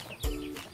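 A single short cluck from a free-range village hen, close and fairly quiet, against a faint outdoor background.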